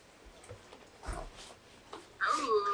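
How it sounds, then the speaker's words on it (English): A dog heard over a video chat gives a brief high whine near the end, following faint muffled sounds and some background talk. "Oh, you have a dog?"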